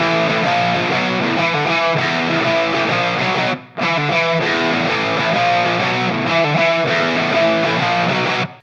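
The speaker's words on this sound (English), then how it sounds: "we have two rhythm guitars panned hard left and right" Two crunchy overdriven rhythm electric guitars, panned hard left and right, through an S-Gear amp plugin with OwnHammer cabinet impulse responses, playing a dense, sustained rock riff with a brief break midway before the chords resume loud and steady.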